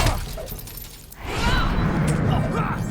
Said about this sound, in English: It's like glass breaking there.